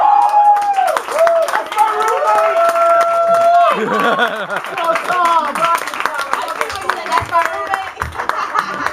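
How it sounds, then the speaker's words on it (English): An audience claps throughout, with scattered chuckles and crowd murmur, while a loud voice and whistle-like tones ring out over the clapping in the first half. "Clap it up for Tom."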